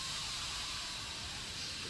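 Steam hissing inside the horror game Outlast: Whistleblower, a steady, faint, airy hiss with no break and no voices.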